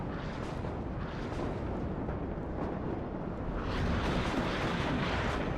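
Continuous heavy artillery and rocket fire from the WARNO real-time strategy video game sounds as a dense, roaring barrage of overlapping blasts that grows louder and brighter partway through.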